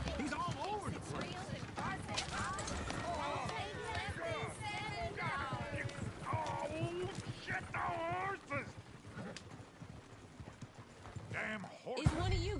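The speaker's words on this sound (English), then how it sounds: "Damn horse!" Horse hooves clip-clop steadily in Red Dead Redemption 2, with several horses and a coach moving along while characters talk over the rhythmic hoofbeats throughout.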